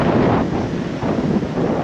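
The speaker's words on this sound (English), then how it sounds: "It's windy." Strong cold wind buffets the microphone in a supermarket parking lot in Brno, Czech Republic, with a constant rough roar, gusting slightly, with no voices.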